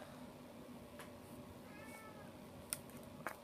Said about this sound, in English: Sorry, my cat's here.